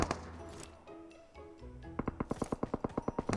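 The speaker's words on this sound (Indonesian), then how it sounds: "Ada yang nembak" Rapid, evenly spaced gunshots in a battle royale video game, a fast burst of about a dozen sharp cracks after a quieter stretch of background game noise.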